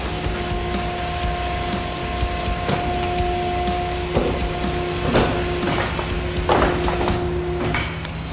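Hydraulic tube bender forming roll cage tubing over a mandrel in a fabrication shop, a steady machine hum with sustained tonal whine and scattered clunks and clicks throughout.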